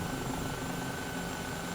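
A helicopter's steady rotor and engine drone in Microsoft Flight Simulator, a dense continuous whine and hum with a fixed pitch, loud and unbroken for the short stretch with no talk over it.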